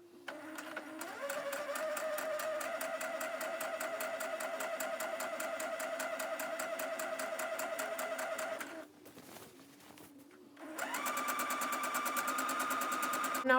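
A sewing machine runs a long basting stitch in a steady, rapid whir with a fast needle rhythm, pausing briefly before starting again, close and clear with no talk.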